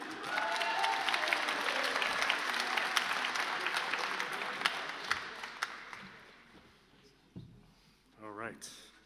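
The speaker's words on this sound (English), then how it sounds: "Round of applause for Julian." Audience applause at a university film and TV awards ceremony, a full round of clapping that fades out midway, followed by a few scattered claps and brief voices near the end.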